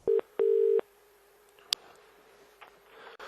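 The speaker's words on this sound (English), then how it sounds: "this clip that I'm going to show you is a telephone call of me talking to the production company" A telephone dials out to place a call: two loud steady tones, one brief and one longer, then a sharp click and quiet line hiss with faint faraway sounds.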